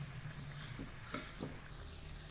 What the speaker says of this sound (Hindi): मसाले को भूनेंगे हम